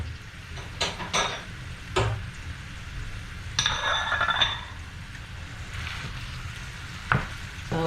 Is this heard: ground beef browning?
yes